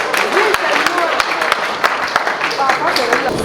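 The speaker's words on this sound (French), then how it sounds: "Give a round of applause to the Lord." Wedding guests clapping during a bilingual church-style wedding celebration, scattered sharp claps mixed with voices and crowd noise over a few seconds.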